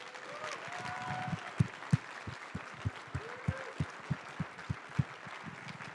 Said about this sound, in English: right now is a great time to applaud our volunteers and staff members